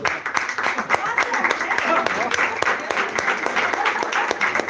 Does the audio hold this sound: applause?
yes